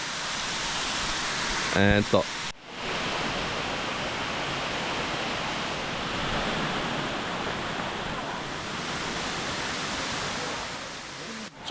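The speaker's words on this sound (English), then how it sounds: "the waterfall looks really nice though" Waterfall in Java, Indonesia: a steady, loud roar of falling water fills the whole stretch after a brief voice and a short break near the start.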